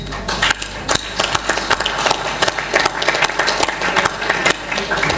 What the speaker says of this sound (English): So please give everyone a round of applause.